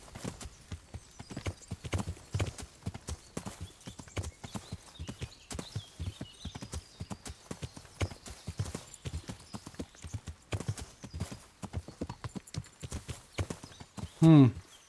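Steady horse hooves clip-clopping at a walking pace in the video game Kingdom Come: Deliverance, fairly close and even, with a brief horse snort or whinny near the end.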